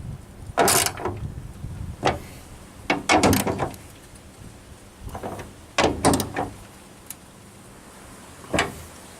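Bolts on Valkyrie branch guard mounts are tightened with a socket wrench, producing several short bursts of ratcheting and metallic clicks separated by pauses, fairly close.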